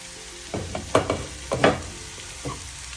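Green bitter gourd stir-fry being stirred in a pan over low flame, spatula scrapes landing in a handful of distinct close strokes over a soft steady sizzle.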